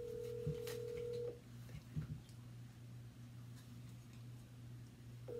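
A phone call rings out while waiting for an answer: faint steady ringback tones under low room hum, with small clicks and brief noises between them.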